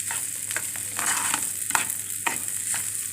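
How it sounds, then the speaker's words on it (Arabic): Rice being stirred as it fries in ghee for fatteh, a continuous sizzle with repeated scraping strokes of the spoon at a steady rhythm, close up and without talk. "لازم تقلبي كده كل رزيه تتغلف كده بالسمنه"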